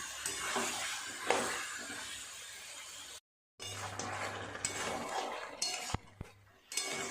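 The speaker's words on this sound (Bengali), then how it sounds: "এবার অনেকক্ষণ সময় নিয়ে ভালো করে কষাতে হবে" Desi chicken is stir-fried in a pot for a long time, with a steady spoon scraping, metallic clinks and a low sizzle close by, broken by a brief silent gap and a few sharp knocks.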